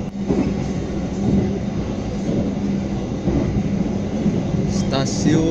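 A Sancaka passenger train travels between Jogja and Surabaya, making a steady rumbling, rattling rail noise from inside the carriage with a persistent hum, loud and continuous, with faint voices in the background.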